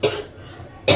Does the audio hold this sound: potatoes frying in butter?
no